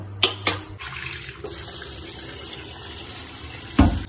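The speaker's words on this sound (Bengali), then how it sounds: "মুগ ডালটাকে শুকনো রকম হবে, কিছুটা এবার নিয়ে ধুয়ে নেব।" Mung dal lentils being washed under running water: a steady close rush of tap water with a few knocks and clinks at the start and a louder splash near the end, no speech.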